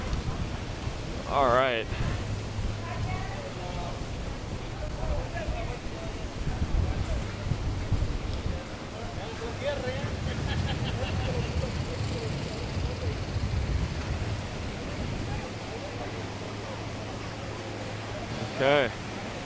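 Strong wind roars steadily across a beach in Playa del Carmen after Hurricane Beryl, a constant broadband rush buffeting the microphone, while people talk over it.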